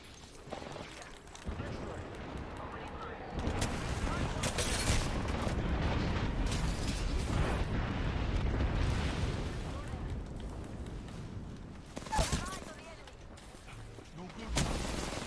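Airstrike explosions in a video game roll in as deep, rumbling booms and a sustained thunderous barrage, with sharper blasts standing out later, all under game chatter and voices.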